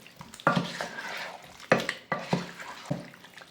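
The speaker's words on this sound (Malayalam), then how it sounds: "ഇനി ഒന്ന് മിക്സ് ചെയ്തെടുക്കാം." Ghee being stirred into chicken biryani in a cooking pot: a few distinct, close scraping strokes with soft sizzling and clinks between them, and no talking.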